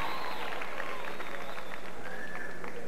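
Studio audience clapping for dancers on a 1983 Brazilian TV show, Clube do Bolinha, forms a soft, continuous patter under a voice.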